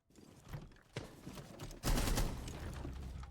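Rapid gunfire bursts from a Rainbow Six Siege esports match between DPlus and SCARZ, two short volleys followed by a louder, sustained barrage of close shots with no talk.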